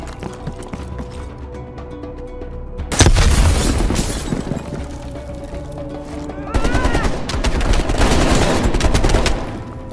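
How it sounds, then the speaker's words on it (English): A grenade blast bursts loudly amid sustained rapid gunfire in the Call of Duty Black Ops Cold War campaign, a dense crackle of shots continuing, then a second heavy burst of firing and explosions later on. "Incoming grenade!"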